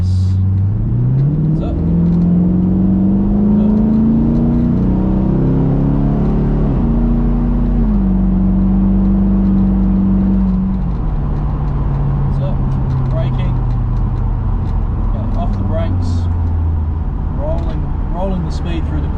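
A V8 Chevrolet Camaro muscle car on the Hampton Downs race track: loud, close engine drone rising in pitch as it accelerates through the gears, then easing and holding steady, with someone talking over it throughout.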